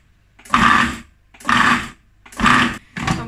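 Food processor pulsing a soy bean mixture for baked vegan fish fingers, four short loud whirring bursts of about half a second each, separated by brief pauses, close and alone.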